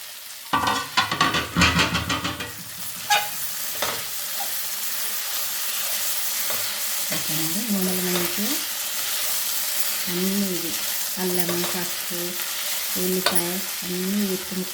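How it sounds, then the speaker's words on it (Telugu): Okra (lady finger) fries in hot oil with a continuous sizzle. A burst of clattering comes as it goes in, and later a voice hums or talks faintly in short phrases over the frying. "ఇప్పుడు బెండకాయలు వేయాలి మనం ఎంచుకునే పక్కన పెట్టినాం కదా అవి ఇప్పుడు ఈ ఆయిల్లో వేయాలి"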